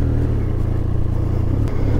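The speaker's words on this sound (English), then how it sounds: "It's actually a really nice triple sound." A 2023 Triumph Speed Triple 1200 RS three-cylinder motorcycle engine revs loudly and steadily up close, a deep throbbing rumble with burbles and some mechanical clatter, no voices.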